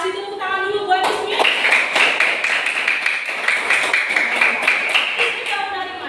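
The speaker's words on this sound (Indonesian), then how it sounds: "Kasih tepuk tangan dulu buat Ismi." A classroom of pupils clapping hands together, a burst of quick, close, rhythmic claps lasting several seconds, with brief voices just before and after the clapping.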